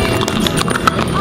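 Hooves of a ridden horse clip-clop in quick uneven beats close by while people talk over them.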